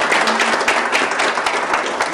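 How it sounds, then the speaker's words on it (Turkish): A room full of people clapping for a programme host, dense continuous applause with many overlapping claps, loud and steady from start to end. "Ben üyelerimizden ve yönetim kurulumuzdan Sedat Bey'e programı için bir alkış istiyorum. Alkışlıyorum."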